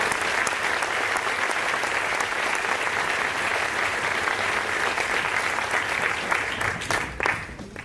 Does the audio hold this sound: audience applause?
yes